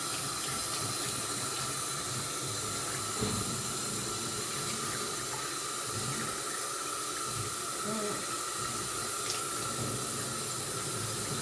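Water runs steadily from a tap while shampoo is rinsed out of a child's 4c kinky hair, a constant close hiss and splash with faint soft voices in the background.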